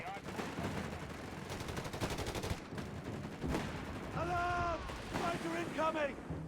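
Aircraft strafing gunfire in Company of Heroes 3 comes as rapid bursts of automatic fire among explosions and battlefield noise, with tonal effects sweeping overhead in the mix.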